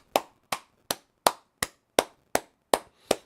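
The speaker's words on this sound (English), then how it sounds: "All right, clap it up." Hand clapping: nine single sharp claps in a slow, fairly even rhythm, close and clear with silence between each, no voices.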